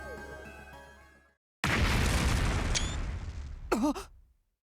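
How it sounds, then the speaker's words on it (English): A sudden explosion in the video game The Hundred Line: Last Defense Academy, a loud broadband blast that starts after a short gap and rumbles on for a few seconds. A brief pitched cry rises near the end before it fades to silence. "An explosion suddenly echoed across the room"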